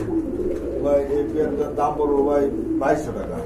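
Pigeons coo steadily at a pigeon seller's stall, their low, rolling calls continuous and close, while people talk over them.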